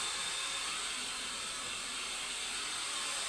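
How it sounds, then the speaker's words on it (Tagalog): A central vacuum cleaner runs steadily in a home, a constant airy hiss and whoosh with no change in level, heard alone without talk. "centralized ayan centralized na yung vacuum"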